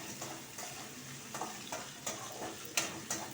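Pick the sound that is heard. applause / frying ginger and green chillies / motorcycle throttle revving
frying ginger and green chillies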